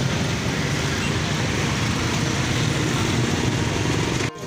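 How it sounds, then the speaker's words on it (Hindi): Heavy road traffic near a busy market square hums as a dense, steady roar of engines and tyres, continuous and close, with faint indistinct voices mixed in. "बहुत ट्रैफिक है यार"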